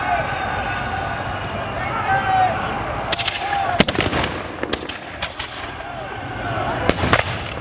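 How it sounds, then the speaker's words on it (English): French troops fire a last musket volley at a French and Indian War reenactment at Fort Ligonier, a ragged series of sharp outdoor shots over crowd noise and a voice speaking. "those French troops firing a last volley and retiring"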